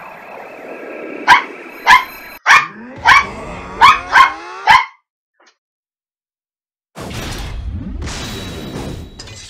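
A dog indoors gives a run of about seven sharp, loud barks in quick succession, then falls silent for a moment before a noisy burst of movement or rustling follows.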